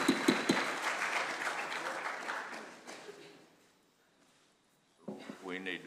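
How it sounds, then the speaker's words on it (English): Audience applause in a county commission meeting chamber, moderately loud clapping that fades out over a few seconds, followed by a brief silence before a voice begins speaking. "if you'll hold your applause"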